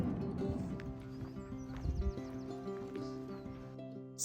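Horses near a small country lane in rural western Ireland, with soft hoof clops and a whinny amid faint farm ambience, quiet and somewhat distant.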